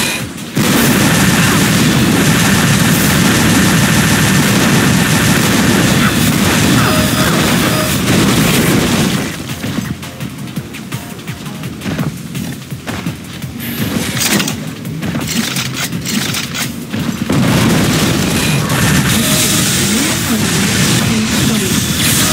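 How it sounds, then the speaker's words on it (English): Heavy gunfire and explosions in Unreal Tournament III, a loud continuous barrage of shots and booms that briefly thins midway before surging again. "I'm taking heavy fire."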